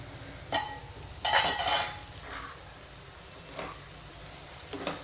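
Okra for bhindi masala fries in a pan and gets stirred, with a soft low sizzle punctuated by a few louder scraping bursts of the spoon against the pan, quiet and close.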